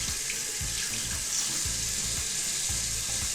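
Warm tap water runs steadily into a sink while makeup brushes are rinsed, a continuous close hiss and splash with faint handling thumps under it.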